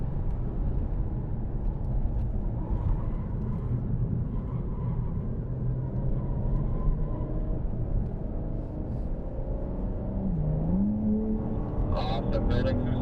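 A BMW M4 building speed down the front stretch of a race track, its engine a steady, loud drone throughout with a rising tone near the end, heard alongside ongoing talk.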